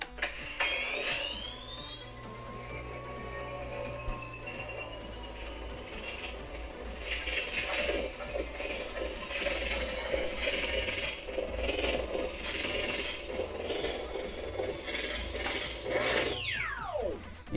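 A HasLab Spengler proton pack toy switched into Ghostbusters Afterlife mode gives a rising electronic whine and sweeping synthesized tones over a steady hum, with a pulsing cyclotron-like drone and a sharp descending sweep near the end.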